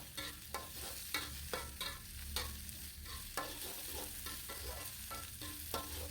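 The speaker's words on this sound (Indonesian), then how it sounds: "Kembali lagi ditumis ya supaya cabenya juga ikut matang." Chili stir-fried with cooked spice paste in a pan, for a sautéed papaya flower dish: a steady sizzle with repeated scraping clicks of a spatula stirring every half second or so, close and alone.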